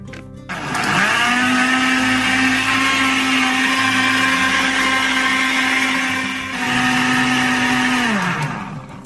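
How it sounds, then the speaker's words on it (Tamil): Kitchen mixer grinder pulverising sugar and maida flour, a loud steady high-pitched motor whine close by that runs for several seconds, dips briefly, then winds down. "மூணுத்தையும் அரைச்சிடுவோம் மிக்சியில்"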